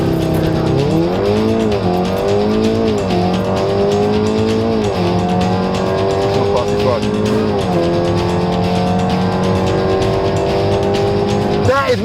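A meth-injected VW Golf R makes a loud, close racing run. The engine revs climb and drop repeatedly through gear changes, with tire noise under a continuous roar.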